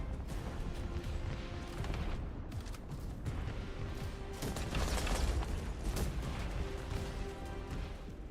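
Detonation blast in the video game The First Descendant, heard as rumbling booms and crashing bursts that swell and fade across several seconds, fairly quiet and with no talk over it.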